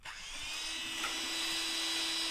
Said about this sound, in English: the drill sound